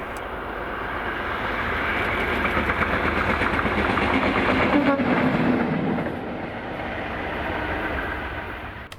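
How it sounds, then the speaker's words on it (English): West Coast Railways class 37 diesel 37518 hauls a seasonal snow train of Mark 1 coaches southbound in Scotland in winter, a loud sustained engine roar with rail clatter, swelling as it passes close by, then easing slightly. "this is a return south of 1, 37518 on OZ37 Tomna Fair to Carnforth"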